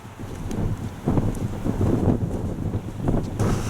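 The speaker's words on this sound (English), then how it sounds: "The wind's picked up again!" Wind gusts across the microphone on a steep Peak District path dropping from Torside Clough toward Longdendale, a loud, continuous low buffeting roar that swells and eases without a break.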